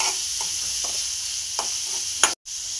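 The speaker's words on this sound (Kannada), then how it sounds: "ಎಣ್ಣೆ ಒಳಗೆ ಚಂದಾಗ ಫ್ರೈ ಮಾಡ್ಬೇಕು" Curry leaves and dried fenugreek leaves (kasuri methi) frying in hot oil with onion give a steady close sizzle, broken by a few brief stirring scrapes and a sudden sharp crackle that cuts off abruptly.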